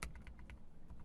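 A command typed on a computer keyboard, a quick run of about half a dozen soft, close key clicks in an uneven rhythm, quiet and alone.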